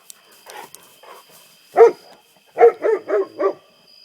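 A young coyote yips and howls outdoors at night, sounding as a few faint early calls followed by a series of four or five sharper, louder yips close together, with quiet gaps between.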